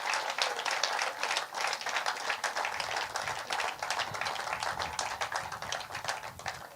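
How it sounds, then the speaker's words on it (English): Dense, steady applause from a crowd gathered at the launch of a cricket stadium in Namibia, many hands clapping continuously at moderate distance for several seconds with no talk over it. "Can we just give them a lovely round of applause for their wonderful work?"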